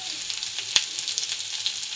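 Steady crackling sizzle of frying in a pan, bright and continuous, with a single sharp clack partway through.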